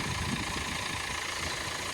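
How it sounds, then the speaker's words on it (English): A Mini car engine idles steadily after reassembly work, a continuous low, even hum with no talk over it. "I'll let it idle for a bit, keep an eye on it"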